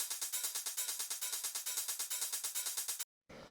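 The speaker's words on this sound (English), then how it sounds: "So all these are just these basic 909 hi-hats." Fast, steady 909 drum machine hi-hats ticking in an even rhythm, bright and crisp, stopping abruptly before a short final burst.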